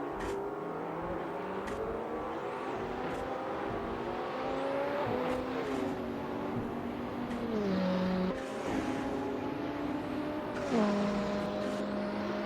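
Hypercars racing at Spa in a racing simulator game, engines droning and revving steadily with pitch shifts through gear changes, occasional cars passing close over a continuous motor whine.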